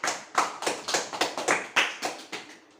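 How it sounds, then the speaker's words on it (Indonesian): A small group of students claps briefly in a high-school (MA grade 10) classroom, the hand claps coming as a quick, uneven run of about ten distinct slaps, fairly close and moderately loud, with no voices over them. "berikan tepuk tangan semuanya"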